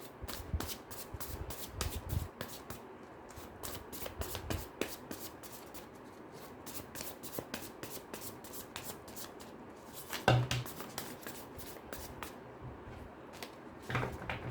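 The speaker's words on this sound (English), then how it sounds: "I'll just shuffle your cards" A tarot deck is shuffled by hand in quick, rhythmic flurries of papery card slaps, close and moderately loud, with a few short pauses and soft handling sounds.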